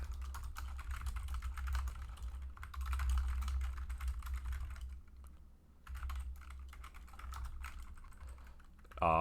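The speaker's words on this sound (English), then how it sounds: "Actually, I have my keyboard down here." Continuous typing on a computer keyboard, a dense run of close clicks with a short pause midway, followed by brief louder clacks at the end.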